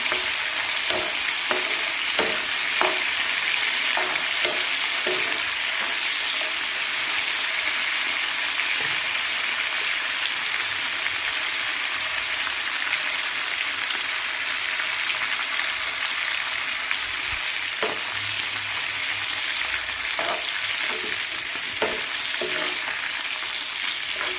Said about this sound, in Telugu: ఆయిల్లో బాగా ఎగాలి ఎండ్రాయిలు.